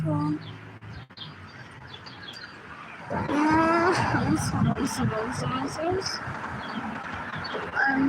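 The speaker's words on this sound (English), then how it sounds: "there's a bird there" Short, repeated bird chirps come from outdoors, partly masked by a person talking close to the microphone.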